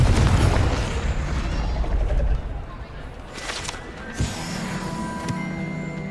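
A Confringo spell cast in the Hogwarts Legacy video game: a loud, deep booming blast that fades into a lingering rumble, followed by a fainter secondary thump and crackling debris.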